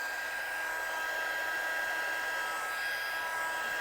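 Heat tool drying and heat-setting a watercolour greeting card: a constant, close blowing roar like a hair dryer, held steadily throughout with no talk.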